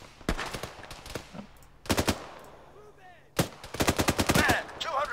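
Arma 3 gunfire during a night mission in Fallujah: sharp, loud gunshots come in short bursts and single cracks separated by brief pauses, with a rapid volley near the end and faint radio-like chatter in the background.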